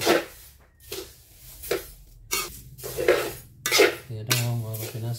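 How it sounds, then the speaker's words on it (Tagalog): Rice and moringa leaves are dry-roasted in a pan to make homemade coffee. A utensil stirs them in repeated scraping, rattling strokes against the pan, close and fairly loud, with short pauses between strokes. "Kailangan halo lang ng halo para magpantay-pantay natin ng pag-brown."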